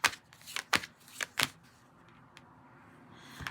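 Tarot cards being shuffled by hand, a series of quick riffling bursts in close succession, then softer handling noises, near and fairly quiet with no talking.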